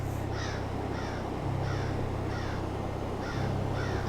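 A crow caws repeatedly at a steady, unhurried pace, each harsh call short and clear, over a low constant hum and hiss of background noise.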